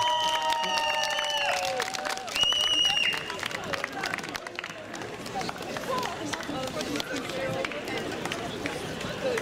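An audience applauds a Polish Carpathian song ensemble from Sanok, a broad wash of clapping and crowd noise that follows a brief tonal passage and carries on at a moderate level.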